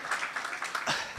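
An audience at a youth forum claps in a short, moderately quiet patter of applause that lasts about a second.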